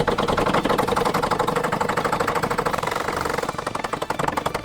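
A vacuum pump draws air out of a sealed container holding hot water, running with a loud, steady, rapid mechanical chugging that pulses evenly throughout.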